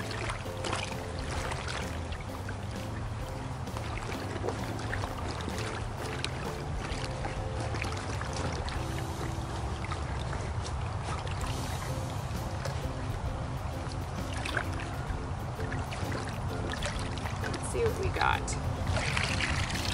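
A stream-health survey, with boots kicking up the stream-bed sediment and a net sweeping through the water. Steady splashing and gurgling flow run throughout as a continuous close wash of water noise, with no clear separate strokes.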